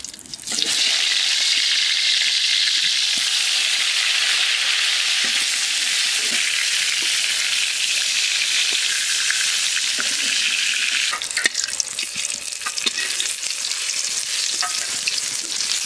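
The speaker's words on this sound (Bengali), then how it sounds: "বেগুনগুলো ভাজা হয়ে গেছে, এবার আমি বেগুনগুলো তুলে নিচ্ছি।" Eggplant slices rubbed with salt and turmeric fry in hot oil, producing a loud, steady hiss and crackle throughout, with a stirring shift and rougher bubbling toward the end.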